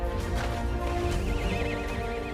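A pony neighs loudly and close, a long shaky whinny with rising and falling pitch, set over background noise and faint hoof clatter.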